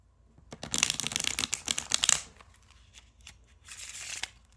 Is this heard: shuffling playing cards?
yes